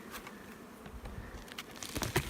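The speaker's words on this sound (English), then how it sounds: "the bees have moved up into these frames" Honey bees buzz at a spring hive, a steady, faint drone of many wings with scattered brief taps and rustles close by.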